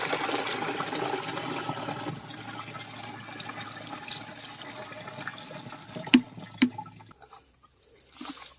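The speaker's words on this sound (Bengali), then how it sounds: "এবার আমি মেশিনে ভরবো জলটা।" Water pours steadily into the tank of a farm sprayer machine for about seven seconds, then stops, followed by a couple of sharp knocks and near silence.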